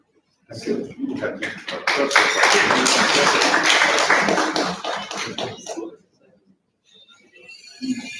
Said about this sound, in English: With a clap.